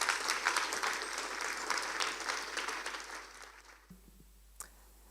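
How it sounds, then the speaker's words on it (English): An audience applauds as speaker Ayesha Bedwei takes the stage at the WIWIK'17 event: dense, loud clapping fills the room for about four seconds, then cuts off sharply, leaving quiet room tone and a single faint click. "Please give her another round of applause."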